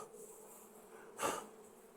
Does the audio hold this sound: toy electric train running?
no